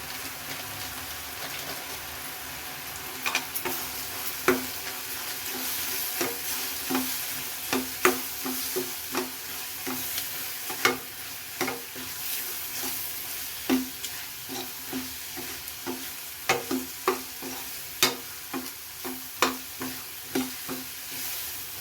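Masala for green paneer masala frying in oil, stirred with a spoon: a steady soft sizzle under a string of sharp scraping clicks at an irregular rhythm, close and clear, with no talking.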